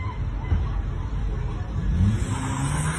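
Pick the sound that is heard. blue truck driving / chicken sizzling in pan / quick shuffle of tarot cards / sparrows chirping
blue truck driving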